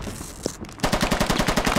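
Machine gun fire in the military shooter game Squad, a loud, rapid, evenly spaced burst of shots that starts abruptly after a short stretch of quieter background noise.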